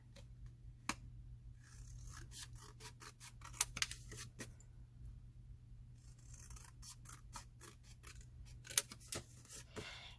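Scissors snip through craft paper to trim it down for a square box project, a steady run of crisp, close cuts repeating alone with no talking.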